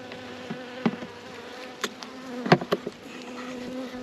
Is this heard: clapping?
no